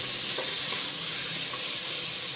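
Tomatoes with a little salt sautéing in a pan for vegetable biryani, a steady, close broadband sizzle with faint scraping of stirring, no talk.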